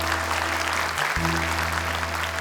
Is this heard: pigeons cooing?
no